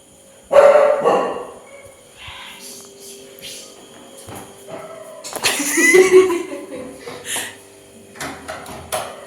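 Dogs bark in short bursts at a moderate distance on a dark night, with scattered voices and a bit of laughter in between.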